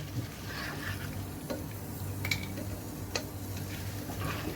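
Chopped onions are stirred into fried mince over a low flame, with a quiet sizzle under soft, irregular scraping and clicking stirs.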